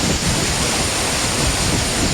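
Agaya Gangai waterfall in the Kolli Hills pours with heavy flow, a dense, steady broadband roar of crashing water filling the whole clip at close range with no letup.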